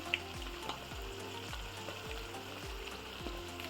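About 700 grams of ground beef sizzles steadily in an uncovered frying pan for Sloppy Joes, with smoked paprika and salt added, while a utensil scrapes and stirs in regular strokes under a continuous close frying hiss.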